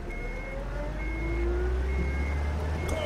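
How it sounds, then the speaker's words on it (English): Truck engine in the UnMetal stealth video game turning over and settling into a low, steady idle rumble that builds slightly, with a faint whine above it. "Crap, they started the engine."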